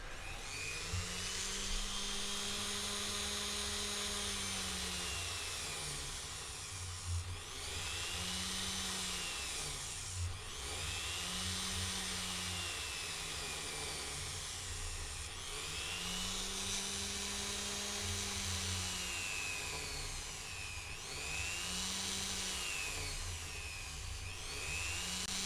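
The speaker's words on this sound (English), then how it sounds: "done with the rotary tool right there on that part" A rotary tool grinds down rivets on a pair of gauntlets, making a faint, continuous high whine whose pitch dips and rises in repeated sweeps as the bit presses against the metal.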